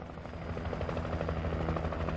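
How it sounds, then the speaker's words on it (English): Helicopter in the video game Alan Wake, a steady, loud rotor drone with rhythmic low chopping pulses holding evenly throughout, no talking. "Somebody could be shooting out of that helicopter or something,"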